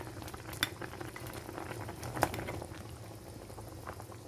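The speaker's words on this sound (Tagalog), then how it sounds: "Hayaan lang natin na kumulo, tatakpan muna natin." Pork bola-bola soup with patola bubbling in a pot, a quiet steady simmer with scattered soft pops and one sharper clink of a utensil midway.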